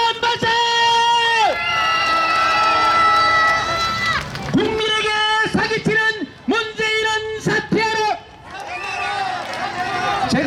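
A large crowd at an outdoor political protest rally in Daegu, South Korea roars and shouts in unison, chanting for the president's resignation, rising in sustained bursts with brief pauses between chants, loud and echoing.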